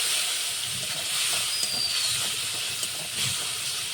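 Onion, garlic, chili and ground cumin spice powder sizzle in a hot pan with a steady, close hiss that holds loud and even throughout, no talking over it.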